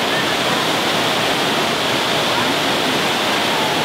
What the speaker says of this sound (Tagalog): Yung tubig dito sobrang fresh. Flowing siya from the mountains